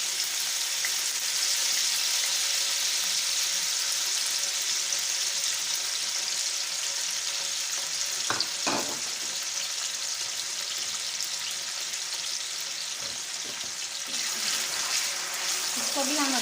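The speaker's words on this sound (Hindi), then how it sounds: "चलें हम अपने फ्राइज़ जो हैं उन्हें भी हम इसी ऑयल में फ्राई कर लेते हैं।" French fries deep frying in hot oil, a loud continuous bubbling sizzle up close, broken by a couple of sharp clatters partway through.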